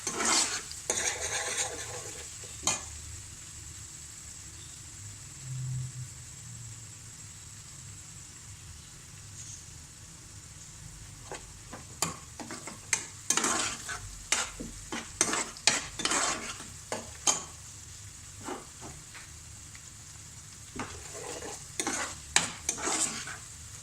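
Steady sizzling of garlic and ginger frying in a pan, with repeated sharp clinks and scrapes of a spoon stirring against the metal, no voices.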